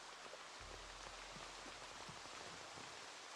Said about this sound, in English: I know that it's raining